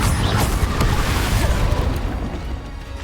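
The Confringo fire spell in Hogwarts Legacy goes off as a short, loud blast, a burst of booming noise that fades over about three seconds, with no voices.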